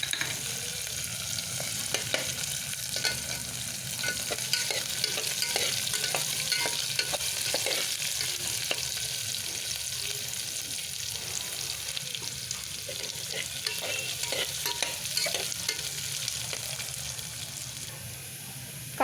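Chopped onion and peas fry in a pan for masala rice, a continuous close sizzle with frequent light stirring scrapes and clinks running steadily throughout, no talking.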